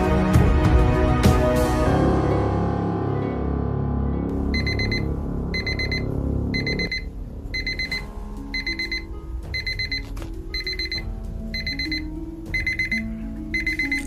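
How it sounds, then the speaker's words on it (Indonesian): An alarm clock rings at midnight in a regular pattern of bright, repeated electronic beeps. The bursts come in even, evenly spaced groups over a low rumbling background. "Oh, itu udah bunyi alarm."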